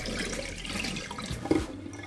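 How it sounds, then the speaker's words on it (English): Tap water runs and splashes steadily while red split lentils are rinsed in a kitchen, fairly faint, with a small clatter near the end before the flow tapers off. "Give them a wash and drain the excess water."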